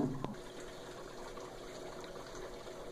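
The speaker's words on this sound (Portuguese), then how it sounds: "ela está filtrando a água novamente para tirar aquele espelhinho, aquela serpinha da roupa" An Electrolux LTS12 washing machine pumps and filters water in a steady, fairly quiet gushing wash that runs unbroken, with a brief clunk at the start and no talking.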